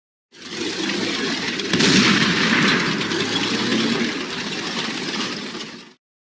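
A tank firing in a children's vehicle-naming quiz: a sustained, loud rumbling blast with dense low-end roar and a sharper burst near the two-second mark, lasting about six seconds with no talk.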